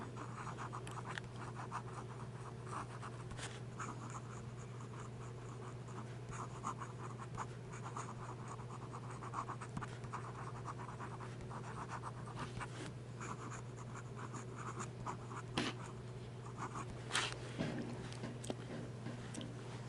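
A pen scratches ink onto paper while being tested upside down, a faint, close, continuous scratching with small irregular strokes and ticks throughout.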